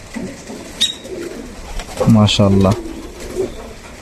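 Pigeons cooing close by in a village coop, a couple of low throaty coos midway, with someone speaking softly before and after.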